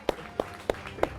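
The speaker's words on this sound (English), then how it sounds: "I started that clap." Slow, evenly spaced hand claps open the applause at a Liberland anniversary gathering: four sharp, close claps about a third of a second apart over a quiet background.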